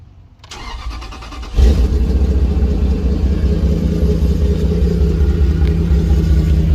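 A Toyota 1UZ V8 engine in a second-generation 4Runner cold-starts, cranking and catching at about one and a half seconds, then settles into a loud, steady, rumbling idle with no talking.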